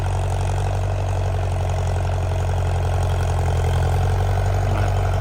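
A farm tractor engine runs steadily at a low, droning idle on a sugarcane farm, loud and close, with a constant throb and no talk over it.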